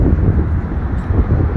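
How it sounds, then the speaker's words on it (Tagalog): Strong wind buffets the microphone outdoors at an RV and trailer show in Calgary, a loud, low, rumbling roar that churns steadily for the whole moment. "Mahangin."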